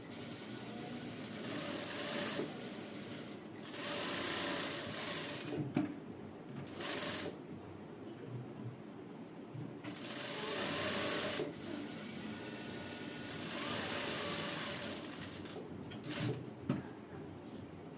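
A sewing machine stitches blouse fabric in a straight seam, running in several bursts of a few seconds each with short pauses between, quiet and close.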